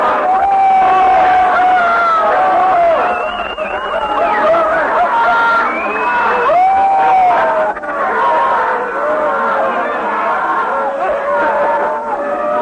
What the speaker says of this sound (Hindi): चिल्लाना है चिल्लाएं, हंसना है हंसें, रोना है रोएं।